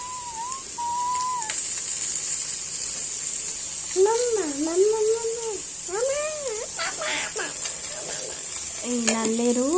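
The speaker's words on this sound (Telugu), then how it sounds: "మధ్య మధ్యలో కలుపుతూ వాటిని మొత్తం నల్లేరు మొత్తము అంతటా కలిసేలాగా ఆయిల్ డ్రాప్స్, పసుపు మొత్తం కలిసేలాగా" Nalleru (veld grape) being stirred with oil and turmeric in a pan: a constant sizzle with scraping stirs and utensil clinks, while a person talks over it.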